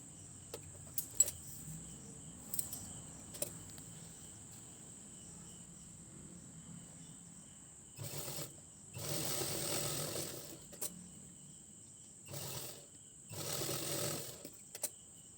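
Sewing machine stitching around a blouse lining, quiet ticking and handling noises first, then several short bursts of fast whirring stitching, with a constant high background whine.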